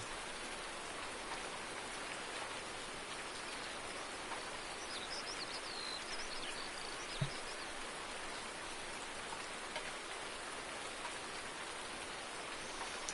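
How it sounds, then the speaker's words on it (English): Steady, even rainfall in the video game Farming Simulator 19 hisses softly throughout, with a faint bird chirp now and then in the background. "you can hear the rain, little birds chirping in the background."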